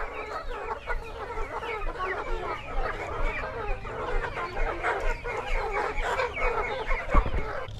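Chickens cluck steadily and close by on a small farm kept for extra family income, a dense overlapping chorus with a brief rooster-like call, no talking.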